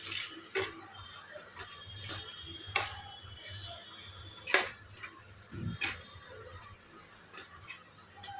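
Fish pieces mixed with salt and turmeric using a metal spatula in a home kitchen, giving sparse, irregular scraping clicks and taps against a bowl at close range, spaced out over several seconds.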